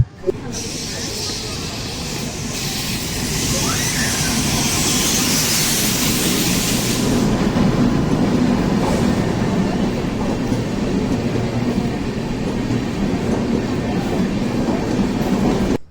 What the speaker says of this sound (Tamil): இந்த ட்ரெயின் வந்துட்டு விழுப்புரம் டு திருவண்ணாமலை போகிற ட்ரெயின்.